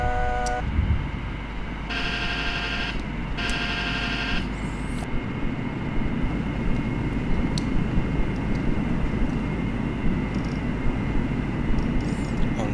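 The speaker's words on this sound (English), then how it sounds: "Let's go gear down." An MD-80 airliner in a flight simulator on approach to San Francisco puts its landing gear down: a steady loud cockpit roar and airflow rumble, with repeated short warning tones early on.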